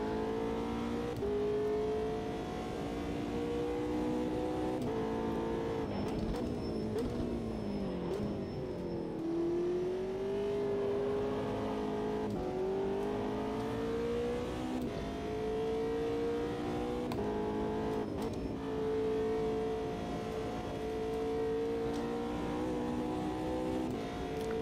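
A GT3 race car engine in the video game Automobilista 2 at the Nürburgring drones continuously, its pitch climbing and dropping as it revs through gear changes, steady and fairly loud with no talking.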